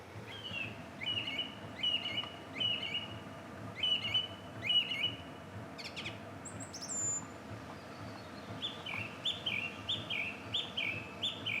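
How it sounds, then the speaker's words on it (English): A small bird chirps outside a camper van at a lakeside camping spot in the Lake District, giving repeated bursts of bright, clear tweets in short runs with brief pauses, fairly close and loud over a soft outdoor background. "the little bird is back, and I'll zoom in"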